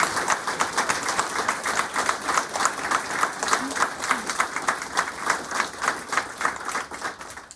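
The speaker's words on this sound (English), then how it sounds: "Let's applaud Doug Flett." A crowd claps steadily in a sustained burst of applause at a gym dedication, dense and even, with a few voices faintly underneath.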